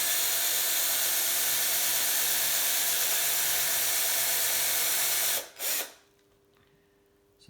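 A steady, loud power drill whirs continuously for several seconds while drilling a gravel touring bike frame, then cuts off abruptly, leaving near silence with a faint hum.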